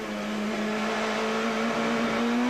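A 1996 British Touring Car Championship race car powers out of a chicane and up a slight incline, its engine drone rising steadily in pitch and loudness under full throttle.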